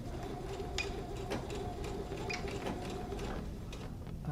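A sewing machine runs a back stitch on plaid fabric, a steady fast mechanical whir with light ticking needle beats, close and continuous, no talk.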